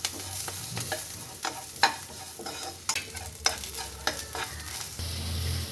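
Masala ingredients for a chana dal vegetable curry frying in a pan, with a steady sizzle and repeated scraping, clattering stirs of a spoon at an uneven rhythm, close and continuous.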